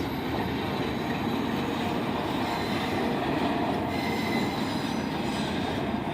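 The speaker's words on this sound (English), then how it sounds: "after the train passes" A train rolls past at Auburndale, its wheels squealing and grinding with a continuous loud, close roar of rail noise throughout.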